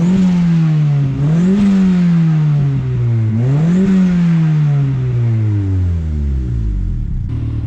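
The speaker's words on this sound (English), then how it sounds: "Let's try to drain a little bit of this regular and you guys can hear some spool." A 1996 Honda Civic hatch with a D16Y7 engine and eBay turbo at 8 psi revs up and down, a loud close droning engine note rising and falling twice before settling into a descending whir.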